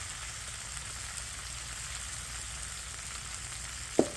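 Teriyaki soy sauce sizzles in a frying pan for a pork stir fry, making a steady, even crackling hiss throughout, ending with a single sharp utensil clack, with no talking.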